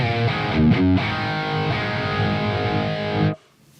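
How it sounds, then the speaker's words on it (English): Dry high-gain electric guitar through a Gojira amp plugin and cab miked with a 57 and a ribbon mic, a sustained distorted chord ringing loud and steady for over three seconds before cutting off abruptly. "and then we're just gonna listen to the dry amp tone."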